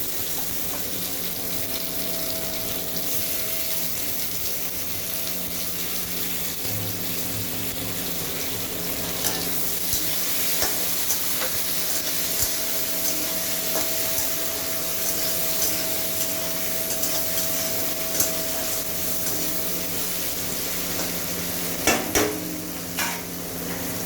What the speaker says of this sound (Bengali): মানে ভেজে নিতে হবে যতক্ষণ না কাঁচা গন্ধটা টমেটো চলে যায়